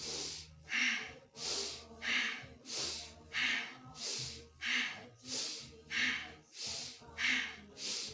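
Forceful, rhythmic breathing during kundalini yoga shoulder shrugs, about eleven strong inhales and exhales hissing close to the mic in a steady cycle roughly once every 0.7 seconds.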